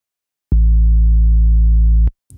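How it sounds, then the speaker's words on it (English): A steady sine wave from a Cherry Audio Voltage Modular software synthesizer oscillator drones at a low pitch for about a second and a half, starting and stopping abruptly, loud and pure. "let's take a listen to the sine wave really quick"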